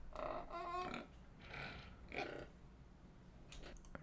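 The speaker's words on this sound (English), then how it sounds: "We threw in some piggies." Pigs grunting and oinking in a medieval village ambience, several short snorting grunts in bursts, close and clear over a low background murmur.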